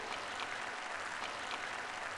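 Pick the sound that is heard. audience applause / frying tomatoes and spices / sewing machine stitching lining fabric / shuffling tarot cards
audience applause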